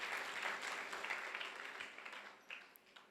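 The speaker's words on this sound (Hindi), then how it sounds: "कम से कम उनके लिए एक बार ताली तो बजाई दो" An audience claps together during a religious discourse, a steady wash of many hands that slowly thins out and fades over a few seconds, heard fairly faintly without speech.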